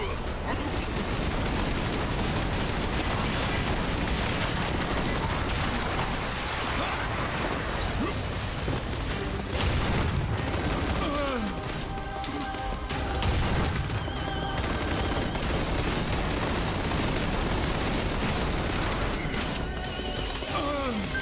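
Missile explosions in the video game Earth Defense Force 5 burst through a dense, constant wash of battle noise, with sharp blasts near the middle and again a few seconds later, all continuous and loud.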